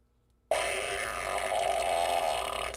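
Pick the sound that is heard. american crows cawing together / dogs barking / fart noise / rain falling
fart noise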